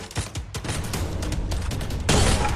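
Rapid bursts of gunfire from the Free Fire battle royale game, dense repeated shots with a louder, heavier volley near the end, filling the whole stretch with no talk over it.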